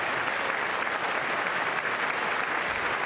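Republicans at the State of the Union stand and clap, a dense, continuous roar of applause from a large chamber crowd.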